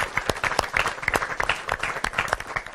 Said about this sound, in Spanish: Último aplauso.